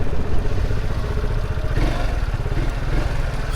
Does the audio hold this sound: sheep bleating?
no